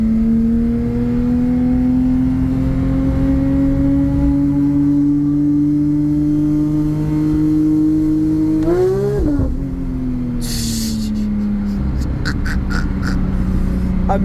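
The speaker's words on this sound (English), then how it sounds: "This is with the exhaust, the titanium exhaust. So, it does sound a little bit louder than stock." Porsche 911 GT3 with a titanium exhaust, engine held at a loud steady rising drone, then a sharp rev and blip before settling, with crackles afterward and no speech.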